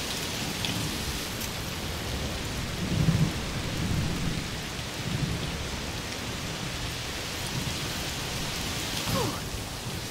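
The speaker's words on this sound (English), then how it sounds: "Must be a heat storm." Thunderstorm with steady heavy rain in the video game A Plague Tale: Requiem, a continuous dense hiss of rainfall with low rumbles of thunder rolling through, swelling briefly before settling back into the downpour.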